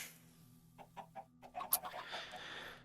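Chickens cluck in a series of short, moderately close calls on a chicken farm in a video game, with one sharp high squawk and a steady ambient hum beneath.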